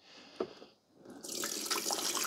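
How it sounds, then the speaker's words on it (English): Water is poured into the reservoir of a Mr. Coffee 14-cup XL programmable coffee maker, with a short splash followed by a steady, rushing pour close by. "Okay, so we're going to dump the water."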